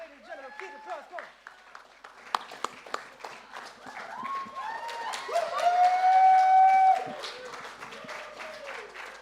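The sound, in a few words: audience applause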